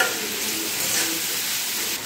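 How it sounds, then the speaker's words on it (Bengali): Cut pointed gourd frying with onions in a pan over low-to-medium flame, a steady close sizzle with soft stirring scrapes running continuously, no voices. "এবারে যে পটলগুলো আমি কেটে রেখেছিলাম সেই পটলগুলো দিয়ে দিচ্ছি।"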